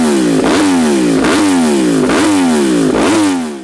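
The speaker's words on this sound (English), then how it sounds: "let's listen to that crossplane crank just one more time" Yamaha R1 sport motorcycle with a crossplane crank engine, revved repeatedly in loud, close, rhythmic bursts, the pitch rising and falling about four times with a throaty, uneven bark.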